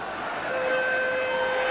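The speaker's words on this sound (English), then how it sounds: "And there's the full-time siren." Full-time siren at a rugby league match between Leeds and Australia, a steady sustained tone sounding over loud crowd noise, with no voices standing out.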